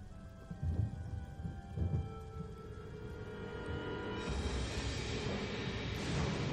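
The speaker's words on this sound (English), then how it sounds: "Is that rain?" Thunderstorm in the video game Lollipop Chainsaw: low rolling thunder rumbles early on, then a steady rain hiss grows fuller and louder, with no talk.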